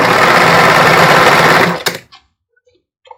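A sewing machine runs hard and continuously, backstitching a seam on a bra, then cuts off abruptly to near silence with a couple of small clicks after.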